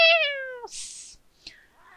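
Hostile manhunting cats in the video game Rimworld let out a clear, loud meow up close, followed by a breathy hiss and a fainter second meow-like cry.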